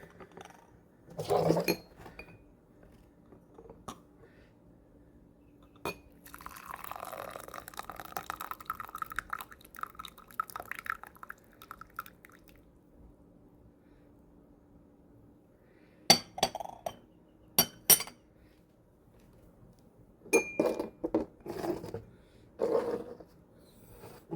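Water pours gently over tea leaves in a small vessel for a quick rinse, with a soft trickle followed by scattered clinks of glass and ceramic teaware in a quiet room.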